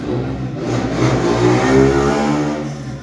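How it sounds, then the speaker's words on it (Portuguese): Motorcycles pass by outside on the street, a loud mid-pitched engine drone rising and falling over a few seconds. "Olha os motos de novo."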